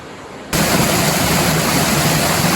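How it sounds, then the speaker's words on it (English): A creek flowing near a waterfall by lava fields, a loud steady rushing roar of water that starts abruptly after a quiet moment and continues unbroken. "we could hear the creek"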